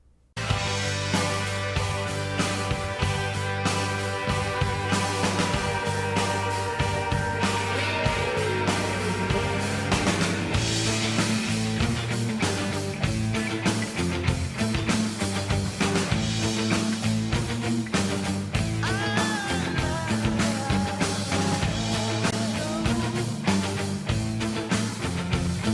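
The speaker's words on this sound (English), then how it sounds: "But for this, I think that full body snare sound works beautifully." Full-bodied, deep snare drum driving a rock song, hitting steadily throughout a dense band mix with bass, guitars and cymbals, loud and continuous for the whole stretch.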